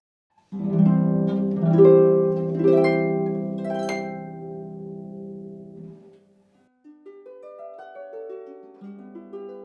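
Harp with a 6.5-octave range ringing out in rich plucked chords and runs, then a gentle rising sequence of single plucked notes climbing higher after a brief pause.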